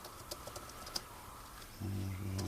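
Keys clacking on a Microsoft Surface Pro 2 tablet's detachable keyboard, a light run of close, quiet taps followed by a short pause.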